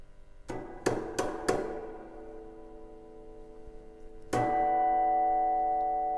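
Electric guitar played through the spring reverb of an old, repaired mixing desk: four sharp plucked strikes in quick succession, each ringing with a long metallic spring tail, then a sustained chord that rings on loud and alone.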